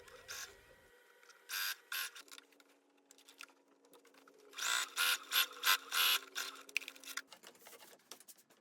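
Sewing machine stitching quilted jacket fabric strips together, heard as short separate bursts of fast clattering stitching over a faint steady hum, close and fairly quiet with no talk.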